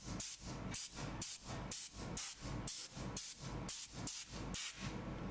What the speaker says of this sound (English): I'm just gonna put some mechanical compressed air and